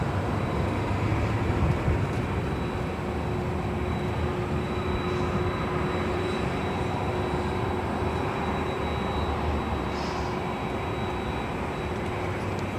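An American Airlines Airbus A321neo at LAX gives off a distant, steady jet engine rumble with a faint high whine, holding even across the whole stretch with no voices.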